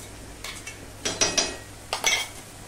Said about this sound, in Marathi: छान हलवायचं।